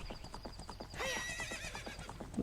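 A horse in the Ocarina of Time video game whinnies once mid-clip over a steady, rhythmic clip-clop of hooves, with no talk.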